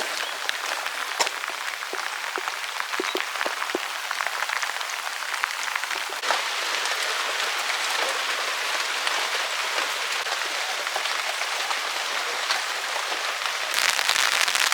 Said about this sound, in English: So much rain. Oh, I'm actually getting wet.